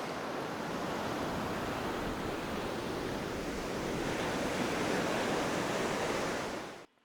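Caribbean Sea surf washes onto the beach at Cancun in a loud, continuous roar of breaking waves with some wind rush, steady throughout and cutting off abruptly at the end.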